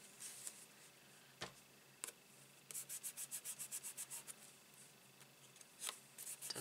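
Rubbing on a card during stamping craftwork: quiet scratchy strokes in a steady rhythmic run, with a few sharper isolated scrapes before and after, close and faint with no talking.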